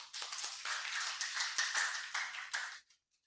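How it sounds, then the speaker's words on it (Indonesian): A class audience at an Islamic religious education teacher-training session breaks into brief, dense applause that lasts under three seconds and then stops abruptly. "Berikan aplaus."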